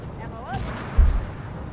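A T-80 tank cannon fires at a Leopard 2A6 in the game Armored Warfare, giving a single deep, short boom midway through. A faint voice is heard just before it over a low background rumble.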